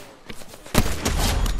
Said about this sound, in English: People shooting at me.